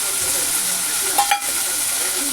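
Green chillies and garlic cloves fry in a pan with a steady, even sizzle, close and continuous, with a faint scrape of stirring midway.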